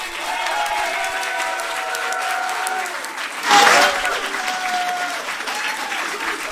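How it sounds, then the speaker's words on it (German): An audience at a Volt Switch finale event claps steadily, with a brief louder swell of cheering partway through, while a voice carries faintly over the applause. "mach nochmal extra Applaus für Levis"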